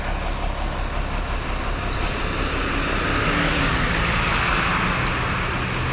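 Continuous road traffic at the ALS bus depot in Yogyakarta, with buses, trucks and cars making a steady, broad roar and passing engines, without speech.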